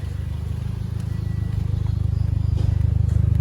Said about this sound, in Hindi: अब ये साउंड सुनिए हो गया आपने, ये एग्जॉस्ट में कवर लगा हुआ है कुप्पा सा